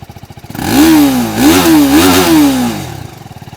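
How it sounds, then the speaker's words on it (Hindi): Revving exhaust note of a TVS Apache RTR 310 motorcycle, a 312 cc single-cylinder liquid-cooled DOHC engine, heard up close: a brief idle, then three or four sharp throttle blips rising and falling before settling back to idle, with no talk. "अब एग्जॉस्ट नोट कैसा है चलिए वो मैं आपको सुना देता हूँ इसका।"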